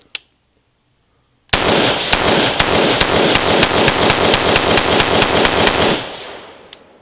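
Rapid automatic gunfire empties a Hexmag magazine, about a dozen close, loud shots in a steady burst after a brief click, ringing off at the end.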